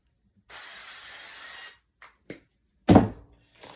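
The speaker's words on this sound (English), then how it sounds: "Put some spray on here." Cooking spray hisses from a can onto a pan in a home kitchen, one steady spray of about a second, close and clear, followed by a couple of light knocks and a heavier thunk.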